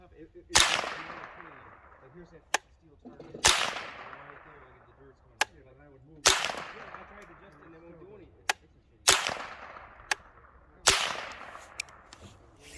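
Suppressed gunshots fired through a chronograph, five sharp reports at a steady spacing of about three seconds, each trailing off quickly, with fainter clicks between shots.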